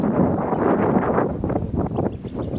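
Strong wind buffets the microphone outdoors, a continuous low roaring rumble with gusty fluctuations throughout, no voices heard.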